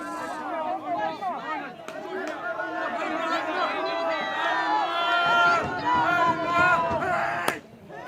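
Spectators at a U17 boys softball national championship game between Nelson and Otago chatter and murmur excitedly, a dense crowd babble with scattered calls and a brief sharp knock near the end.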